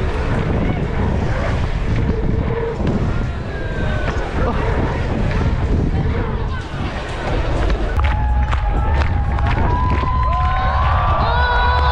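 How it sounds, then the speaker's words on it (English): Strong wind buffets the microphone in loud, continuous gusts at an outdoor mountain bike slopestyle contest, with rough rumbling and a few whistling tones later on. "it's windy as hell"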